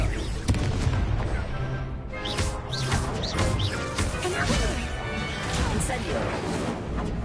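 Confringo blasting spell in Hogwarts Legacy, with loud crashing explosive bursts over dense, continuous game noise while a voice shouts spell names throughout.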